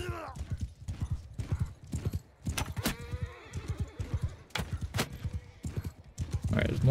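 Horses gallop in the Bannerlord battle game: a dense, steady clatter of hooves in quick rhythmic bursts, with several whinnies rising over the pounding and a muffled voice now and then.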